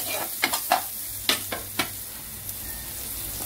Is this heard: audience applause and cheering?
no